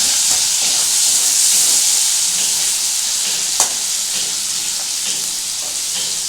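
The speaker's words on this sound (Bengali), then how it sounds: "তারপর দিয়ে দেবো কুচিয়ে রাখা পেঁয়াজ। একটু ভালো করে এটাকে আমি নাড়াচাড়া করবো। এটা এখন একটু ভাজতে হবে।" Chopped onion sizzles in hot oil with black cumin seeds, a steady broadband hiss of frying with soft scrapes of stirring and one sharp clink partway through, close and fairly loud, no talking.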